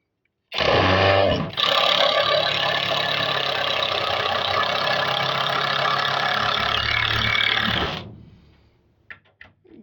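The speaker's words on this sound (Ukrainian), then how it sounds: "шурик буде зараз тріщати" A Horm cordless impact wrench runs in one long continuous loud burst of rattling, whirring hammering, close up, stopping abruptly after about seven seconds and followed by a few faint clicks.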